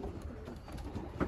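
Homing pigeons coo in a loft, a low, soft, continuous murmur of throaty cooing at moderate distance, with no talking.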